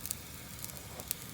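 Chicken curry sizzles in pans on a camping stove at a camping hut, a soft steady frying hiss with a few brief crackles, fairly quiet and with no voices over it.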